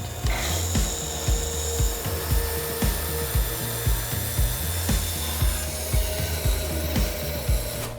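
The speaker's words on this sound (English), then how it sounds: "I'll restart the saw and finish out my cut" A bandsaw cuts through wood to shape a pizza peel, its steady motor hum broken by repeated rasping bursts of the blade biting into the board, loud and close with no talk.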